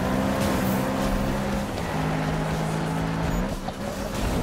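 A tuned car's engine drones steadily while driving in the 2015 Need for Speed racing game, a loud continuous motor tone with a brief pitch dip midway, no talk over it.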